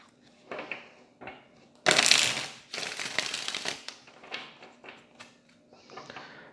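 Cards being riffle-shuffled: two dense, fluttering bursts in a row, with lighter tapping and handling sounds before and after.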